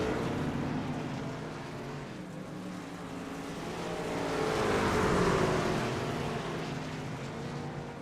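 Dirt track race trucks roar off the green flag at the start of a heat race at Eldora, a dense pack of engines accelerating together and swelling louder midway before easing slightly.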